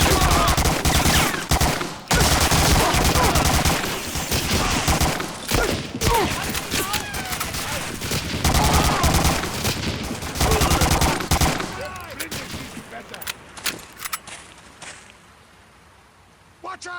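Gunfire from Medal of Honor Warchest, dense overlapping bursts of automatic and rapid shots hammering loudly for most of the stretch, then thinning to a few scattered distant cracks as things quiet down near the end.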